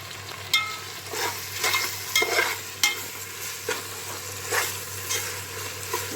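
Mutton with tomato and salt is stir-fried in a pan for biryani: a steady sizzle broken by repeated scraping strokes of a spoon at an uneven rhythm, close and clear, with no talking.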